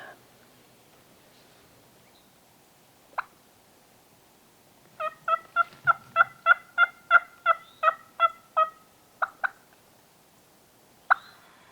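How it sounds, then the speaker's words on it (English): A wild turkey gobbles loudly in a quick rattling burst of about a dozen notes, with a few single yelps before and after in otherwise quiet surroundings in Middle Tennessee during a hunt. "another bird gobbles in behind us"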